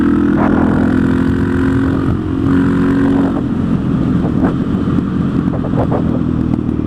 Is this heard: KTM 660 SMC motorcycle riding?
yes